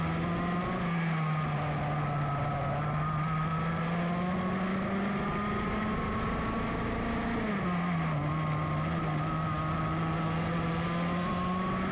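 Master 100cc two-stroke air-cooled single-speed racing karts at Sonoma scream past in a loud, continuous high-pitched engine drone that bends in pitch as they pass, with no talk.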